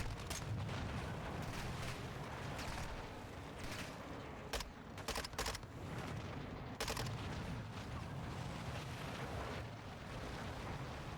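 Gunfire on a ship deck in Call of Duty Modern Warfare 2: dense, continuous battle noise with rumbling shots and scattered sharp cracks, loud and busy throughout, no talking.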